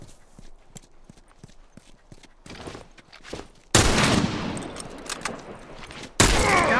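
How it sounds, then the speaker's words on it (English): Hunting rifle shots ring out in The Last of Us multiplayer match: sharp, loud cracks with echoing tails, one near the middle and another at the end, after a stretch of quieter footsteps and rustling. "Look out, rifle!"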